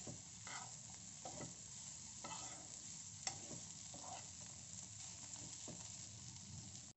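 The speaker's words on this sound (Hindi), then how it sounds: "आलू डाल देंगे, थोड़ा सा अच्छी तरह से इनको मिक्स करेंगे।" Boiled potatoes and frozen peas are stirred in a pan, giving a steady soft scraping and gentle sizzle with a few louder spoon knocks, close and continuous with no talking.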